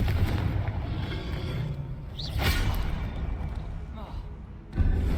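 In the Hogwarts Legacy video game, a Confringo explosion spell fires as a whooshing streak and then a booming blast, layered over dense background effects and ending in a louder burst.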